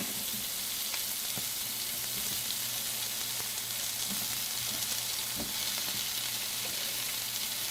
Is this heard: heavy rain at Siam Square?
no